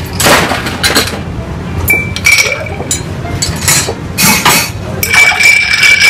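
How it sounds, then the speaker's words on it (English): Ice clinks and rattles against a mixing glass as a cocktail is stirred with a bar spoon, a steady run of bright chinks and clatters, close and fairly loud, with no talk. "I'm going to ice and stir."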